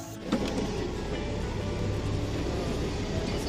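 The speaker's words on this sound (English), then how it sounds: "There's the train." Train rolling along rails near a farm wagon ride, a steady rumbling roar with rattling that holds even and fairly loud throughout, no voices.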